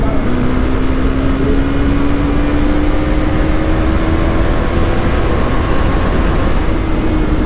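A motorcycle pulls hard through second and third gear after a short wheelie, its engine note climbing steadily in pitch under heavy, constant wind rush.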